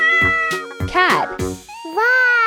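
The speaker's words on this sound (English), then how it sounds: "Cat." A cartoon cat in a 3D animal video game meows loudly in a quick run of bright, pitched calls, alongside several clipped game voice sounds.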